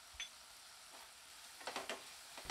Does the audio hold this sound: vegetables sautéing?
yes